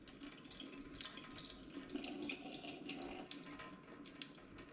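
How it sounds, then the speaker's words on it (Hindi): Water is poured off semolina that has settled in a pot during ghee making. It runs in a steady, close splashing stream like a tap filling a sink, with no talk. "पानी इसका निथार लेते हैं।"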